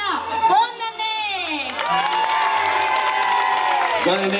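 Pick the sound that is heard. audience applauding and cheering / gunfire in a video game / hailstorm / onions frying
audience applauding and cheering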